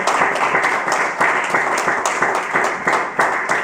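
A church congregation claps together in a loud, close, rhythmic burst of applause, the claps falling in a steady repeated pulse.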